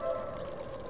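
A bucket filling with water in El Conde Lucanor, a steady, even pouring stream that runs close and moderately loud from start to end, with no speech over it.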